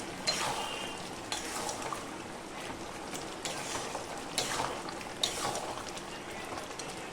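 Red amaranth stem curry being stirred and fried in a pan, a steady broadband sizzle broken by repeated scraping stirs and occasional louder clinks, close and continuous with no talking.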